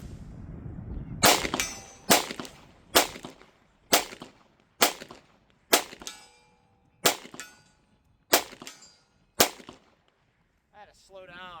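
Nine evenly spaced shots from a Springfield Hellcat 9mm pistol with optic, fired at a target about 60 yards away at a shooting range, each crack sharp and loud with a short ringing decay, followed by brief talking.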